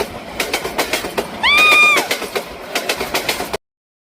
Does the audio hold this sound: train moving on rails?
yes